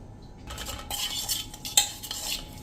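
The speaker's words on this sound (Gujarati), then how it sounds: "અને હવે આ બધું જ આપણે મિક્સ કરી લઈએ" A spoon clinks and scrapes against a metal bowl while mixing a spice mixture, with a few sharper taps, close and fairly loud, no voices.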